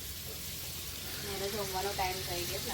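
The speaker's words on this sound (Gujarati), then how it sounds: "તો હવે જો કાંદા તો તેલમાં ફટાફટ જ ગોલ્ડન બ્રાઉન થઈ જશે" Onions frying in hot oil in a pan while a Gujarati-style misal pav is being cooked, giving a steady soft sizzle with bubbling crackles that swell in the second half of the clip, a voice speaking faintly in the background.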